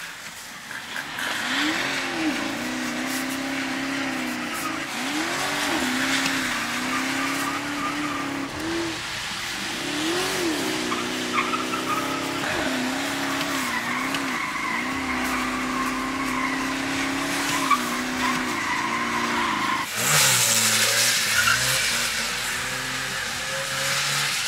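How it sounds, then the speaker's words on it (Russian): BMW cars tandem drifting make a continuous engine roar with wavering revs and a sustained tire squeal close by. Near the end, a louder burst of tire noise cuts in. "Сейчас парный дрифт сделаем."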